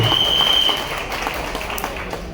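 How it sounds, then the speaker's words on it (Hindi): An audience applauds at a corporate talk, a wash of clapping that starts fuller, then thins and fades a little while continuing at moderate loudness, with a brief high tone at the start. "तो एक बार जबरदस्त तालियां बनती है सर के लिए"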